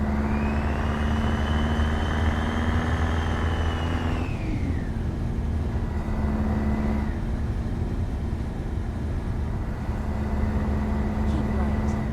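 A Kenworth K100E cab-over truck in Euro Truck Simulator, driving from Trondheim to Oslo in Norway, drones with a steady loud engine hum that shifts pitch as the revs drop and settle, continuous throughout.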